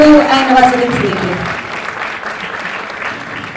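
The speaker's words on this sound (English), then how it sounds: "Can we have a huge round of applause, ladies and gentlemen?" A crowd at a launch event applauds its guests, actors Anurag Kashyap and Nawazuddin Siddiqui, a loud dense burst of clapping that starts over a voice and then slowly fades.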